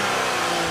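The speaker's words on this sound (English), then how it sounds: "Under the bonnet growls a V6 engine" Audi TT V6 engine revving, a loud continuous growl sustained without pause, heard close and alone with no voices.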